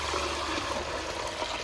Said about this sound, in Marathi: आता मम्मी त्यात पाणी टाकते